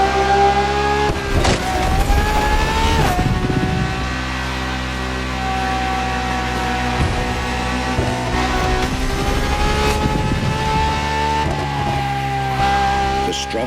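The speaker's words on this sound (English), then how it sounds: "Strongest naturally aspirated Ferrari V12 to date, marking Ferrari's first steps into hybrid technology" A Ferrari naturally aspirated V12 hybrid supercar driven in the racing game The Crew Motorfest, its engine a loud, sustained tonal drone with revs swelling and dipping, plus occasional louder bursts of acceleration.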